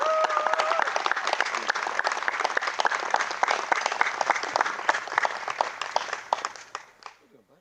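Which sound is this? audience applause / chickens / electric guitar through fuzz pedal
audience applause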